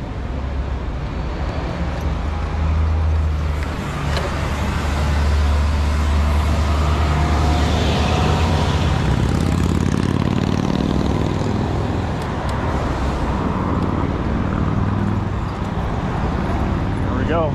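City street traffic heard from a bicycle on a ride between Central Park and Greenwich Village: a loud, continuous rumble of cars, buses and trucks passing close by, with a person talking over it at times.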